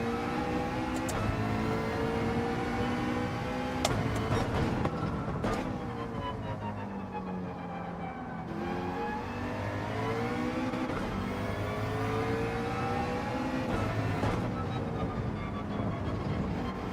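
A race car engine in Gran Turismo 7 revs hard and steadily, climbing and dropping in pitch with gear shifts, loud and close throughout, with no talking over it.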